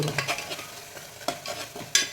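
Spices with chilli powder and garam masala sautéing in a hot pan with soft sizzling, broken by several quick scraping stirs of a spoon, close by and fairly quiet.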